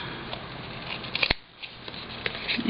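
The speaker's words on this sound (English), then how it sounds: "I'm just going to trim it up a little bit." Scissors trim craft material up close in quiet, faint snips and rustles, with one sharp cut standing out midway.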